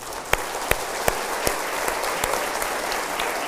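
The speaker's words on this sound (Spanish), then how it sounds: "Vamos a darle un aplauso a Jesús." Applause at a church gathering, a dense, steady patter of many hands clapping with a few sharper individual claps standing out, moderately loud and without talk.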